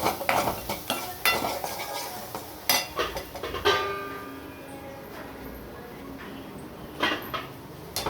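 Mango rice being stirred in a cooking pot with a spoon, giving scraping and clinking strokes against the metal, loudest in the first four seconds and then softer, with a few more clinks near the end.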